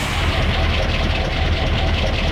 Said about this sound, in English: Please start the engine.